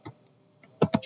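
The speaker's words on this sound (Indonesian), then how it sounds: "Kita ketik ada jumlah." Typing on a computer keyboard while entering a label in a Microsoft Excel pivot table: a few soft keystrokes, then a quick close cluster of three louder clacks.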